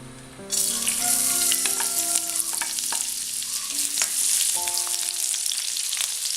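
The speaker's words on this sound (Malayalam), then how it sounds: "അപ്പോൾ നമ്മുടെ എണ്ണ ചൂടായിട്ടുണ്ട്. ഇതിലേക്ക് നമുക്ക് ആദ്യമേ വെളുത്തുള്ളി ഇടാം." Garlic dropped into hot refined oil for a red spinach cutlet, bursting into a loud, dense sizzle after a quiet start and crackling steadily, with a few tonal clinks or beeps in the background.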